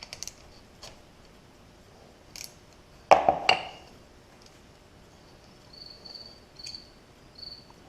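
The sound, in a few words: cricket chirping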